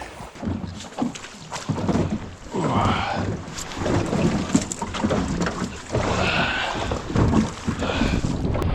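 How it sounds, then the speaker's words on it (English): Strong wind gusts at a lakeshore on Tasmania's Port Davey Track, roaring and buffeting the microphone in loud, uneven surges with a low rumble that carries throughout. "The wind is crazy, just blowing straight back into shore."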